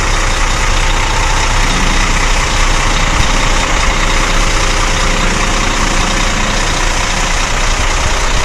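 A new Scania K410 engine in a Jetbus 3+ Voyager coach idles with a steady, loud low rumble and constant mechanical hum, unbroken and with no voices.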